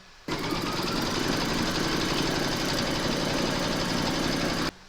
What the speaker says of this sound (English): I've loaded my hoop into my machine and I'm going to stitch round number 1 again.